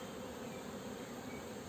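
Honeybees buzzing at a hive, a dense steady droning hum of many bees, close and continuous without pause.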